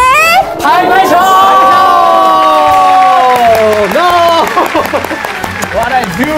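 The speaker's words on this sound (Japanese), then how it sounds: "拍拍手" An audience at a LiSA live show claps and cheers loudly and continuously, with crowd babble and a voice speaking over the applause.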